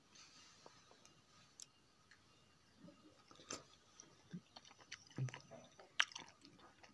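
Close, quiet chewing of a firm, tree-ripened CM 19 sapodilla, with soft irregular crunches and mouth clicks scattered across a hushed background and one sharper click near the end.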